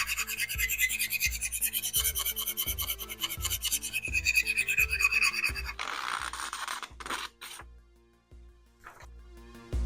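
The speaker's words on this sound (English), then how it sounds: "I'm going to sharpen this knife as best as I can on the pull-through sharpener. It's a carbide and ceramic pull-through" Knife drawn repeatedly through a carbide and ceramic pull-through sharpener, giving rhythmic close scraping rasps in steady strokes, then faster irregular scrapes and a brief pause.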